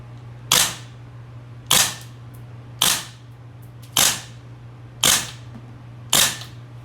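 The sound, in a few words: GHK MK18 MOD1 gas blowback airsoft rifle firing shots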